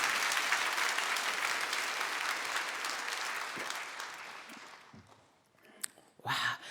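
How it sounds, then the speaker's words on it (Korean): Church congregation claps in encouragement during a sermon, a dense, steady wash of applause that gradually thins and fades, followed by a few scattered sounds and a short burst of voices. "우리 격려의 박수를 하나 해주십시다."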